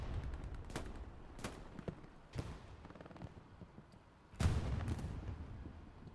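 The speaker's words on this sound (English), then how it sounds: "Do hear some more tank rounds going over here" Tank rounds fire in Hell Let Loose on the Carentan map during a competitive match, a string of booming shots with lighter crackling gunfire between them and one heavier, louder blast past the midpoint, and no voices.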